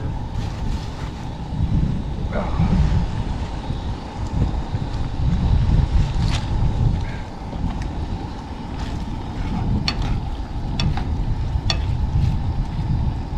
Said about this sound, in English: I think we just had about a 30-mile-an-hour wind gust.